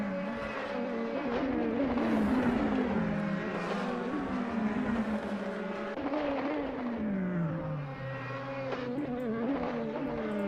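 Race cars in the polka dot livery and a packed field thunder down Silverstone's Hangar Straight in a DTM sim racing game, a dense continuous engine roar with pitch sweeping down and up as several cars pass close by.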